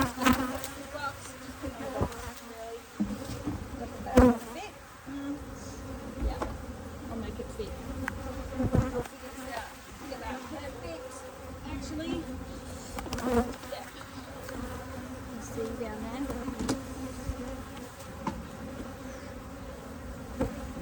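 Dense, steady buzzing of many honeybees swarming close around an opened top bar beehive as frames are lifted out, continuous throughout with a few louder swells and no talk over it.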